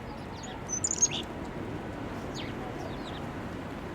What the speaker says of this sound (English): And a chickadee. I think he wants food.